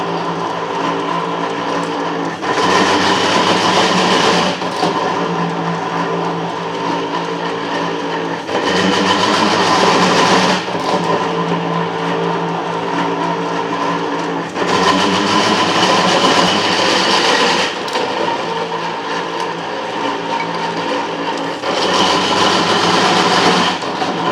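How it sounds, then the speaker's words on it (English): Metal planer machining the crosshead ways for a steam stoker engine, a steady loud mechanical drone with regular cutting strokes and return passes repeating about every four to five seconds, no talk. "And we'll start letting that cutter cut toward me."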